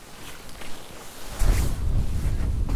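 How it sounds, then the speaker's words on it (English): Strong wind on a lake during a lake trout fishing trip buffets the microphone in heavy low rumbling gusts, growing louder halfway through and staying blustery. "Windy? Yeah, she's windy."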